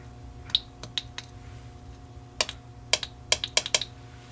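Small relay or solenoid clicks on a 2002 Ford Taurus as 12 volts are applied, a few sharp isolated ticks followed by a quicker cluster of close, crisp clicks over a faint hum.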